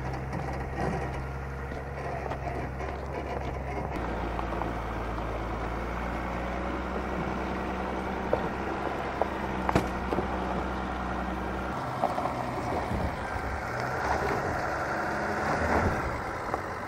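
A 2024 Chevrolet Silverado ZR2 pickup's engine rumbles steadily while off-roading, its low drone shifting as it is given throttle, with faint knocks and rattles along the way.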